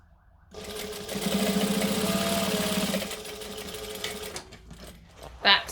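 A sewing machine stitches a garment with a close, steady mechanical whir for a few seconds. It then slows to a stop and is followed by faint handling sounds.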